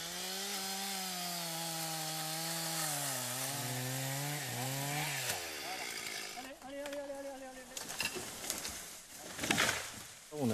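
Firefighters run a chainsaw on a tree during a training exercise, the engine droning loud and near, rising and falling in pitch, then biting into the wood with rougher, choppier cutting noise toward the end.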